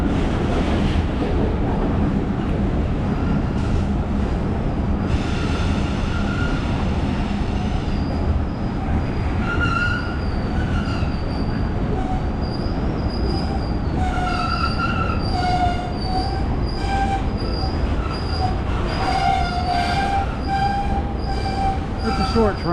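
A short train rolls past on a street-level line through historic Decatur, Alabama, its wheels squealing loudly and repeatedly against the rails over steady low rumble and some wind buffeting, close and continuous throughout.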